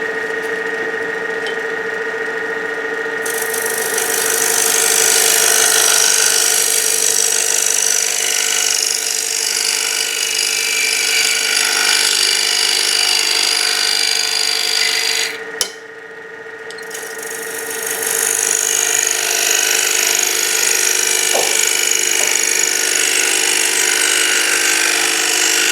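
A power saw cuts a tenon in wood with a loud, sustained whine close by, briefly dropping in pitch midway as the blade bites before climbing back to full speed.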